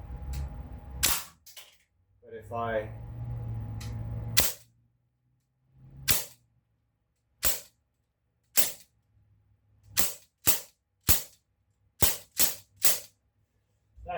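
Sig Sauer MCX gen 2 airgun, charged to 1900 PSI, fires a series of sharp close reports, mostly in quick double taps, with a brief spoken phrase near the start.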